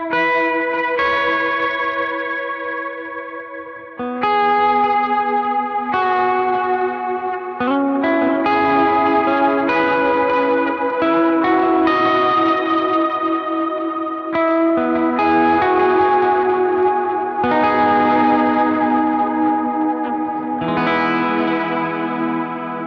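A clean electric guitar tone played through a vibrato and chorus pedal, sustained ringing chords that shimmer and waver, changing every few seconds, loud and alone without talking.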